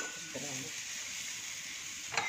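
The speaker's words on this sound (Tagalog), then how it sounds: "nagpa-fried na siya ng bawang" Garlic frying in a pan gives a faint, steady sizzle throughout, with a brief stir or clink near the end.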